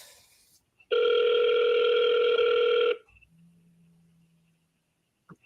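A telephone ringing tone sounds during an outgoing call to a home seller. One loud, steady two-second burst is followed by a faint low hum and a small click.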